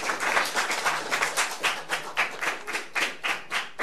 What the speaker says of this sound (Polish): wielkie brawa dla prowadzącej tę debatę